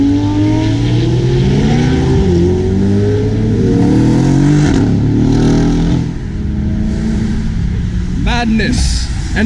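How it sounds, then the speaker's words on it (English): A Lamborghini Huracan supercar pulls in at a gathering of exotic cars on a lawn, its engine droning and shifting pitch up close while someone talks excitedly over it, a brief higher whine near the end. "And as another Lamborghini Huracan pulls in."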